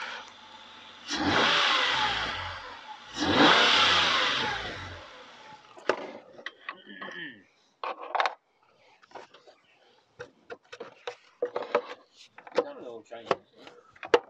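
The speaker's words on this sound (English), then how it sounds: "Let's just give it a rev." A Ford Mondeo ST220 engine revs twice in strong surges after new inlet manifold gaskets, rocker cover gaskets and spark plugs were fitted, then settles while tools clatter and knock close by.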